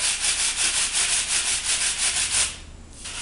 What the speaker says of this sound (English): I got 60 grit sandpaper, and I'm just going up and down the shaft